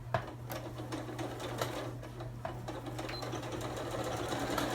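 A professional sewing machine runs steadily, stitching back over the seams of a custom fabric water bottle cover, with a constant hum and soft rapid needle ticks close by and no talk.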